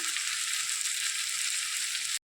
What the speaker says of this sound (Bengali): তার জন্য পেঁয়াজ কুচি, রসুন কুচি, লঙ্কা কুচি, টমেটো কুচি সব ভাজছি